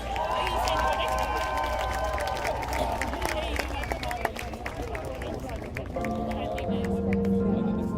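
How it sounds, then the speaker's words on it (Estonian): Concert audience applauding loudly and steadily, a dense wash of clapping and crowd noise that carries on with tonal sounds and voices mixed in. "tehke talle üks maruline aplaus"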